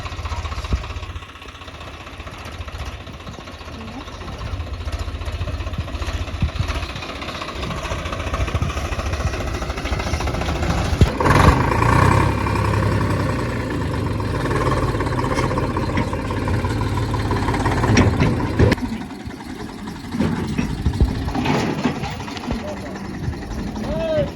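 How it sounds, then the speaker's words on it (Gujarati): A tractor engine rumbles close by, idling and revving in waves with a low throbbing, while people talk over it at times. "ટ્રેક્ટર આવી ગયું છે."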